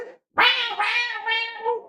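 A human voice imitates a cat during a tabletop role-playing session of Rise of the Runelords (13th Age): one long, wavering meow, loud and close, after a brief bit of speech.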